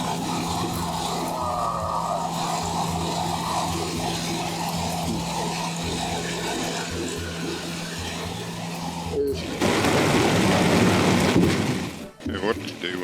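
Heavy rain pours down on a fishing boat out at sea while mackerel fishing: a dense, steady roaring hiss over a low droning hum, swelling harder near the end before a brief drop-out.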